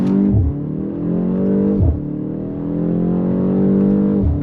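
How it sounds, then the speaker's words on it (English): A 2025 BMW M235 with a four-cylinder engine pulls hard through the gears from inside the cabin, each rising drone cut by quick shifts, about three loud sweeping pulls with crisp pops between them. "a chill little 4-cylinder with a little bit of pops"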